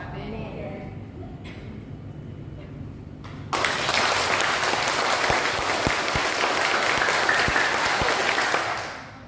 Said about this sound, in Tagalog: Itataas ko ito, yun ang antas ng palakpak niyo.